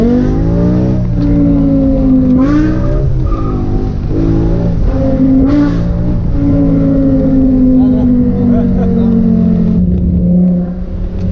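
A new 600-horsepower BMW M5 accelerates hard, its engine rising in pitch through repeated gear changes over about eleven seconds, loud and close inside the cabin.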